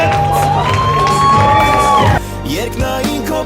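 Loud audience cheering and applause at an Armenian celebration, with whoops and shouts over a sustained tone from a singing voice or music that stops midway, leaving the crowd noise alone.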